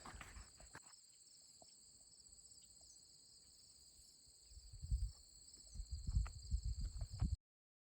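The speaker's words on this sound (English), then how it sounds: "There's so many grasshoppers here. I wonder if you could hear them when I walk. Sounds like the shrubs are alive." Grasshoppers give a steady, high insect buzz from prairie shrubs on a rocky caprock trail in Theodore Roosevelt National Park's North Unit, joined near the end by footsteps crunching through the brush.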